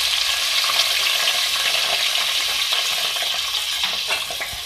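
Half a kilo of washed, drained potatoes frying in hot oil for aloo karahi, giving a loud, close, continuous sizzle and crackle with occasional stirring.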